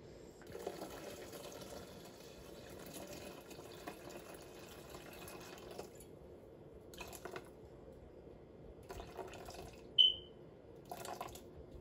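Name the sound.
water poured into a Thermomix M6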